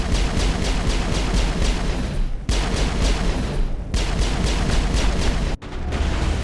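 Sustained automatic gunfire in the sci-fi shooter Mass Effect 1, a dense continuous barrage of rapid shots that drops out briefly twice, with no talk over it.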